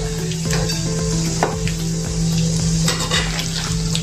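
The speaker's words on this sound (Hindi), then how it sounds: "और अच्छे से इसको अभी हम तलेंगे" Sweet potato pakoras deep-frying in hot oil over a raised gas flame, a steady close sizzle and crackle with faint stirring clinks, no voices.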